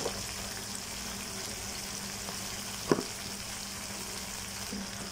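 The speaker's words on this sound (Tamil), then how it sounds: "இந்த கத்திரிக்காய் வந்து இந்த எண்ணெயில் நல்லா வதங்கணும்" Eggplant cut lengthwise sautéing in oil for kara kuzhambu, a soft, even sizzle running throughout at low level with a single brief scrape or tap midway and no voices.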